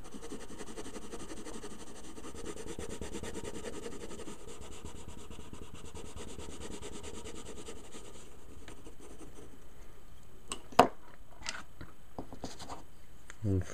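A colored pencil blending shades on paper while drawing a tattoo design makes a steady, faint, soft scratching texture, with a few brief louder taps near the end.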